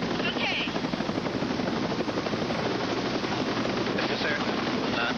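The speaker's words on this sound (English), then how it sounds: "Palmer was loaded into the chopper and placed in the care of Chief Flight Nurse Julie Mullen" A rescue helicopter in flight carrying an injured patient, its steady loud rotor and engine drone filling the cabin continuously with no break, with faint voices mixed underneath.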